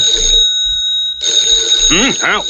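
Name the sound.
telephone ringing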